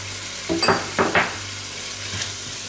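Spoon scraping and stirring through egusi soup paste as Maggi and spices go in, a few short strokes close by over a low steady hum.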